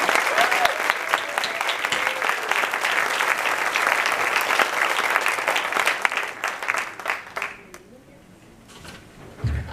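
Warm audience applause from a luncheon crowd welcoming USC Athletic Director Mike Bohn: many hands clapping steadily and fairly close, then thinning to a few claps and fading out near the end.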